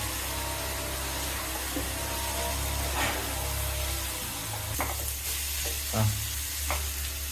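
Cut capsicum is stirred into cooker chicken frying in the pot: a continuous close sizzle with a low rumble beneath, broken by several sharp scrapes and knocks of the spoon. No one talks.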